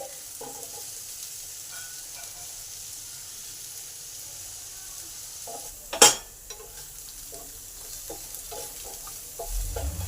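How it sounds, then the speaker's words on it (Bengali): Onions and hog plums fry together in a pan with a quiet, continuous sizzle and hiss, broken by one sharp clatter of a utensil midway and a few soft stirring scrapes. "একদিকে পেঁয়াজ ভাজা হোক আর একদিকে আমড়াগুলো দিয়ে দিই, এগুলো ভাজা হোক"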